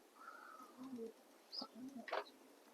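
Soft, low coos from Yellow American pigeons sound in a few short bursts against a quiet background, with a brief higher chirp or two mixed in.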